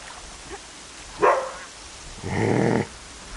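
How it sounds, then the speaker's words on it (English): A dog gives one short bark, then a longer, louder bark or yelping growl about a second later, both fairly close, over quiet background noise with no talking. "Stop barking at the neighbors."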